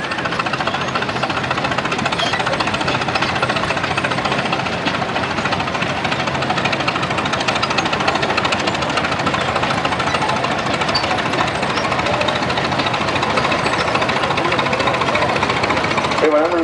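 A 1946 John Deere Model LA antique tractor engine chugs and knocks continuously at close range, steady and loud, a rough rhythmic mechanical drone with no pauses.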